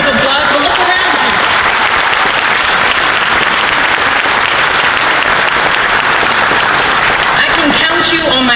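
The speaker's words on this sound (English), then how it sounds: "they deserve a round of applause" Sustained applause from a protest crowd at Netroots Nation 2018, cheering people from New Orleans, dense and steady throughout with voices shouting over it.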